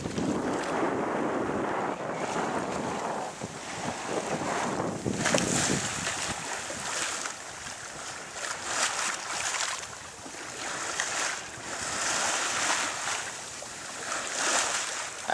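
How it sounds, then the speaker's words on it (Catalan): Sea waves wash against a sailing boat far off the coast near Mataró, a soft irregular splashing and surging under steady wind buffeting the microphone, with no voices. "Aquest és l'únic soroll que se sent aquí. Les onades."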